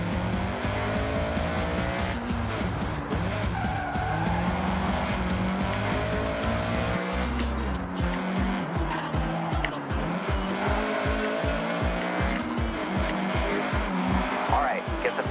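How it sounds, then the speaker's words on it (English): A Honda CRX in the Forza Horizon 6 racing game accelerates hard with a loud, revving engine and rising gear-shift pulses, tires squealing and skidding throughout, continuous and close. "All right, get the CRX up to speed."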